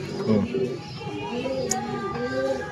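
Pigeon cooing close by, a few soft low coos with other bird sounds, mixed with background voices talking.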